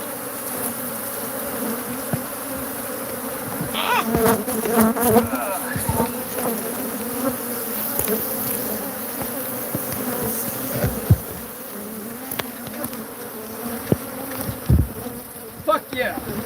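A swarm of bees buzzes loudly and continuously around a beekeeper in Tombstone, with individual bees droning close by and flaring past at intervals.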